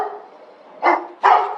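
A large dog of roughly high 30 kg, awaiting sedation by a police and vet team, gives two loud, close barks about half a second apart over a quiet background.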